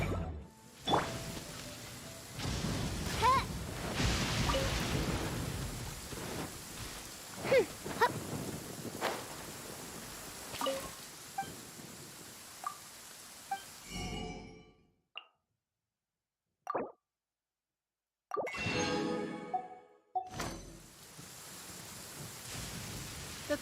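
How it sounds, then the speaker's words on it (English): Rain in the video game Genshin Impact: a dense, steady hiss of falling drops with occasional low rumbles, which then breaks off into near silence broken by a few brief bursts. "Rain! I hate rain."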